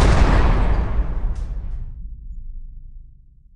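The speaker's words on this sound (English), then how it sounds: "Jail door close." A heavy metal jail door slams shut in one loud, booming clang that rings out and fades slowly over a few seconds, close up and alone.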